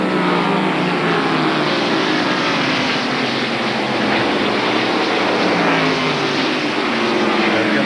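NASCAR stock cars racing at the 1993 Hanes 500, including Davey Allison's Thunderbird, a loud continuous engine roar filling the whole stretch without a break, steady and close with no clear voices.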